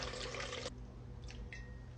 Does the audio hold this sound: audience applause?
no